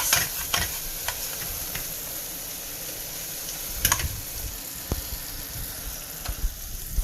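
Half a teaspoon of garam masala gets stirred into soft, cooking tomatoes in a pan for tarka dhal, giving a steady low sizzle with a few scraping clicks of the spoon, close and fairly quiet, with no talking.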